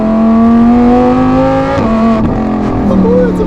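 A Lamborghini Huracan Tecnica with a Novitec exhaust roars loudly and close as it accelerates, its engine note climbing steadily before shifting and dipping, with the blare staying dense and strong throughout.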